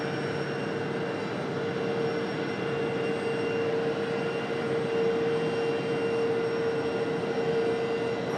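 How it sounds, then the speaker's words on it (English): A 19-year-old JetBlue Airbus A320-200 airliner arriving from San Juan at Raleigh-Durham airport makes a steady, moderately distant jet drone with a sustained whining tone, unbroken and without voices. "next arrival, JetBlue from San Juan, Puerto Rico. An A320-200."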